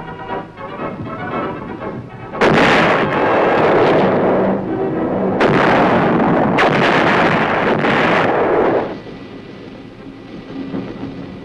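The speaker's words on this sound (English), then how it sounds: "The hard work at Aberdeen pays off as the 175s reliably deliver shells with pinpoint accuracy on targets over 10 miles away." 175 mm self-propelled guns fire shells on a proving ground at Aberdeen, heard as several loud, rumbling, booming blasts with rolling roar and wind noise between them, no voices.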